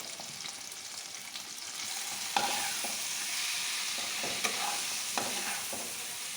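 Spice paste fries in oil and is stirred in a pan, giving a steady close sizzle with occasional spatula scrapes and taps, growing slightly louder after the first couple of seconds.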